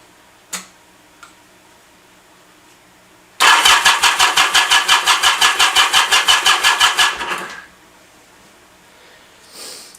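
A Yamaha Commando motorcycle engine cranks with rapid rhythmic pulses for about four seconds, then fades out as it fails to catch. A faint click comes before it and a brief clunk after, loud and close.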